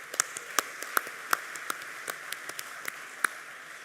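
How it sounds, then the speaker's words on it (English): Scattered, sparse applause from an audience at a tech awards ceremony, individual claps standing out distinctly in an uneven rhythm, fairly quiet with no talking. "Round of applause."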